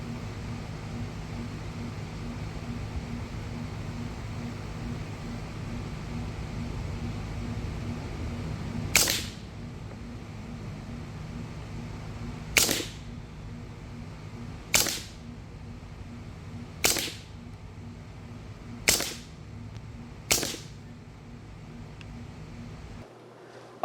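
Six sharp shots from an Air Boss full auto airgun crack out in an irregular sequence over a steady low background hum, each a brief loud snap.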